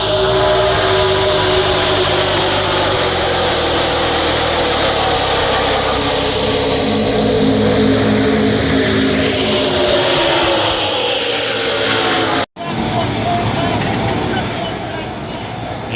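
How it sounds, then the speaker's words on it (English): Xfinity Series race cars running laps at night, heard from the back stretch as a loud continuous roar of engines that builds and drones for many seconds, briefly cut, then carries on with a fading pass. "So the first race on Friday night was the Xfinity Series, and we went on the back stretch to watch them for a little bit here and seen all the cars run around."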